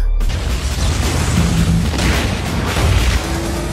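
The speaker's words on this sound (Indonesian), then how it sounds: "Tembakan pertama itu berhasil melubangi tubuh Honju" In the Kaiju No.8 anime, Mina's powerful shot strikes the kaiju Honju and punches a hole through its body, a loud sustained booming blast with heavy rumbling low end and crackling debris, no voices.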